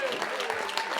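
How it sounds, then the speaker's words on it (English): A theater audience at a crowning ceremony claps steadily for about a second, a dense burst of hands under a voice speaking over it. "Give a big round of applause for the young men who are going to be celebrated tonight."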